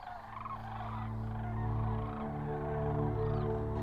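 A crane gives a loud, rolling, trumpeting call, repeated continuously over a few seconds, outdoors with a steady low rumble beneath.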